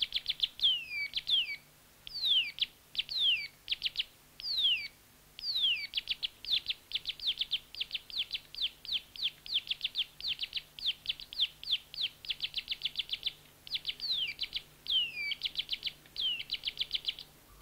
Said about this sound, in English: This bird is also singing in winter time.